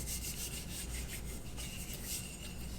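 A cloth rubs down the grip of an AR-15 lower receiver during cleaning, making a steady, close, quiet scrubbing hiss that continues without pause.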